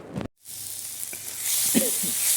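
Bitter gourd pieces fry in a cumin and mustard seed tempering, a steady hiss of oil rising after a brief pause and holding loud, with faint stirring clicks underneath.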